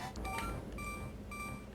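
Repeated electronic beeping in Zelda: A Link to the Past, short high tones sounding in an even, looping pattern over a low game background with no talk.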